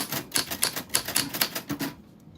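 Rapid clacking of typewriter keys strikes in an uneven rhythm for about two seconds, close and fairly loud, then fades into quiet with no distinct bell ring standing out.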